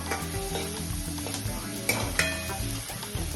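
Masala sautés in a pan for a spicy masoor dal amti, a soft continuous sizzle broken by the scrape and clink of a spoon stirring against the metal, with a few sharper knocks, quiet and close.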